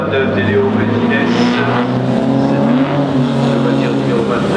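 Historic race car number 29 at speed on a circuit, a loud engine drone with shifting pitch under a commentator talking in French.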